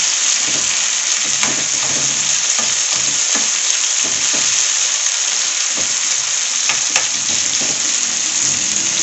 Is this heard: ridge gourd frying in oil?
yes